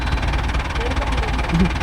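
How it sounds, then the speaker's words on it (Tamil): A Mahindra Arjun Novo 605 DI tractor engine runs with a rotavator attached in a cotton field, a steady, throbbing mid-pitched drone heard close with a voice talking over it. "இதே அரை RPM இன்ஜின் ஓடுது, ட்ராப் ஆகுது."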